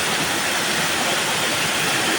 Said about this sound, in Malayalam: അപ്പൊ മേളില് ഷീറ്റിൽ വെള്ളം വരുമ്പോ നല്ല സൗണ്ട് അടിക്കും.